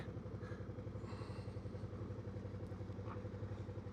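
A stationary motorcycle engine idles faintly but steadily with an even, rapid pulse, left running on a winter roadside in the Dovedale and Manifold Valley area.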